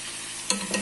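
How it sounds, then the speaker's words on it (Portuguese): Pork frying in plenty of lard in an old, well-used family pan, a steady close sizzle with brief louder bursts of spatter and stirring toward the end. "Carne tá aí já fritando"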